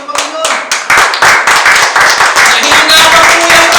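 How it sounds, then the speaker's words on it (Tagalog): A worship congregation claps in a steady rhythm during an online gospel service, with loud, sharp, evenly spaced hand claps close by that continue without pause. "Palakpakan po natin ang Panginoon"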